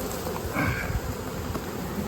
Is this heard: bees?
yes